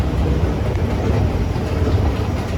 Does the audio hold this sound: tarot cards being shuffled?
no